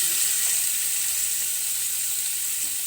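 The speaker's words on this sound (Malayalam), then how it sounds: "ഇതിലേക്ക് നമുക്ക് അരിഞ്ഞു വെച്ചിരിക്കുന്ന സവാള ആഡ് ചെയ്ത് കൊടുക്കാം." Chopped onion hitting hot oil in a pan: a steady, bright, close sizzle holding evenly throughout, with no voices.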